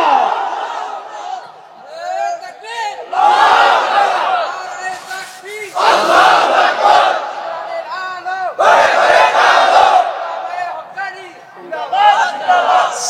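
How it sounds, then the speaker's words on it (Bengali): A large crowd at a Bangla religious sermon gathering chants a takbir slogan in loud rhythmic waves, several swelling bursts of massed voices separated by brief lulls. "স্লোগানের আওয়াজ এত ক্ষীণ হবে না"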